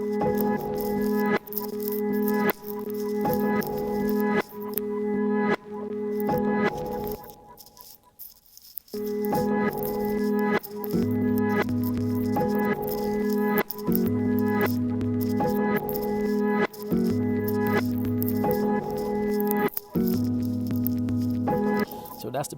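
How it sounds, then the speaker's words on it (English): Two pianos playing together in a hip hop sample beat, layered with a stereo delay; a steady, repeating chordal pattern with a brief dropout near the middle, blended as one full, continuous musical loop. "I actually played both of those pianos together so you can see how that blends together"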